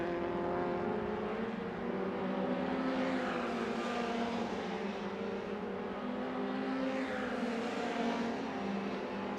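MRF2000 single-seater race car on a circuit, its engine note rising and falling as it passes through a turn, loud and continuous with the sweep of the pass.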